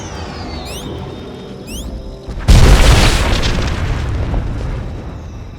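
A weapon blast in the video game SWTOR: a sudden loud boom erupts after a stretch of sci-fi music and electronic sweeps, then rolls into a long rumbling, crackling decay.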